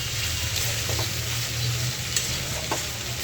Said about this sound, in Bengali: তো এখন এই যে আলু ভাজি বসাই দিচ্ছি।